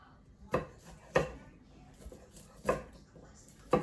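A knife cuts asparagus on a diagonal against a wooden board, giving four sharp separate chops at an uneven pace, close and fairly loud over quiet room tone.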